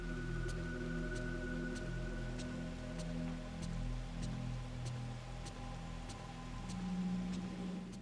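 Rain falls steadily in the horror game Fatal Frame 3, a soft continuous patter over a low droning hum, with faint regular ticks repeating throughout.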